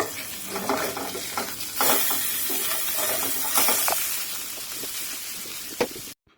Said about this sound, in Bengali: ওই তেলের মধ্যেই দুই পিস রুই মাছ ভেজে নেব